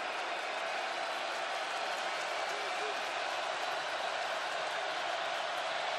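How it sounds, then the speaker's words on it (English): Broad, steady roar of a stadium crowd at an NFL game between the Detroit Lions and Denver Broncos, a distant wash of noise building on third down and ten, with faint play-by-play commentary on top. "as this crowd tries to get cranked up"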